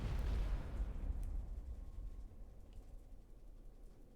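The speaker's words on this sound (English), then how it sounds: "the car bomb goes off whenever you hear that" A car bomb detonates in the video game 428 Shibuya Scramble: a loud, deep boom at the start that rolls on as a long rumbling decay, with no voices.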